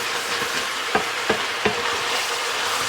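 White wine hits a hot pan to deglaze it, giving a loud, dense, continuous sizzle with three quick scraping knocks of a utensil partway through, close and without talk.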